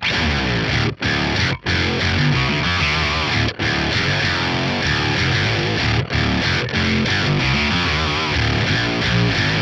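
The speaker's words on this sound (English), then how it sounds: "Next up, the ring modulator. I like using this for an old school octave style effect." Electric guitar played through the ring modulator of a Fractal FM9, set with pitch tracking for an old-school octave sound, rings out loud and dense, with a thick, buzzy, distorted tone that keeps going over nearly ten seconds with only a few brief gaps.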